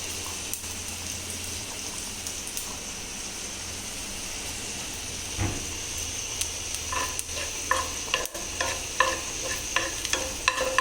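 Mustard seeds, cumin and dried red chilli pieces frying in hot oil, a steady low sizzle with sharp pops and crackles that grow more frequent toward the end, close and fairly quiet.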